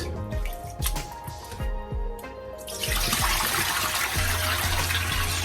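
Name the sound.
lemon water being poured for sea moss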